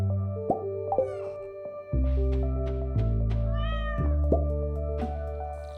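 A cat meows several times in the farming video game Stardew Valley. The short meows ring out over steady game music, with a soft plop and chime sounds in between.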